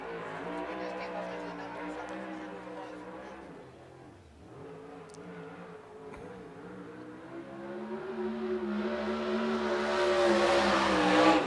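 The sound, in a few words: race car on track during qualifying at a speedway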